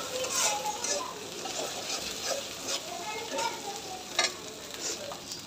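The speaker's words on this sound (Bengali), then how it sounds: "ভালো করে নেড়ে চড়ে" Potato-and-vegetable dish being stirred and fried in a pan, with steady sizzling and scraping strokes of a spoon repeating throughout, close and moderately loud, one sharper clack partway.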